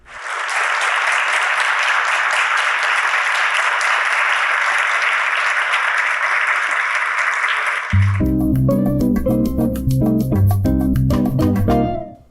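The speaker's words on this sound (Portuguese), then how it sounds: "A plateia aplaude com entusiasmo." Enthusiastic applause fills an auditorium after Leonardo Boff's talk at Sempre Um Papo, a thick, even wash of clapping for about eight seconds before it gives way abruptly to music.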